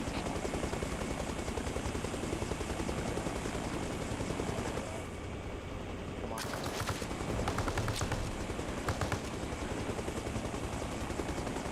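Gunfire in Arma Reforger crackles in rapid bursts over the steady chop of a nearby helicopter, with several sharp volleys in the latter half and voices talking throughout.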